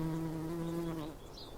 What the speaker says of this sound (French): Un bourdon, lourd, se pose quelques secondes sur un chardon violet. Et tu peux entendre son bourdonnement grave